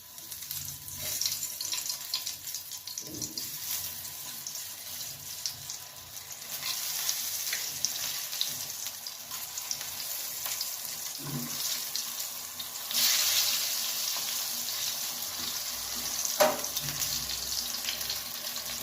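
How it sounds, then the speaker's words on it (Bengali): Eggplant slices frying in hot mustard oil in a pan make a steady hiss. A few sharp knocks and a louder surge of sizzle come partway through, close by with no talking. "আমি এবার বেগুনগুলোকে এতে ভাজবো"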